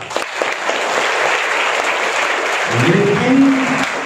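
Audience applause at an Urdu students' school event, a dense sustained clatter of many hands clapping throughout, with a voice briefly rising underneath near the end.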